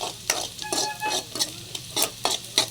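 A spoon stirring and scraping in a frying pan while vallarai keerai fries with karuvadagam until golden brown, a soft sizzle under repeated rhythmic scrapes about twice a second.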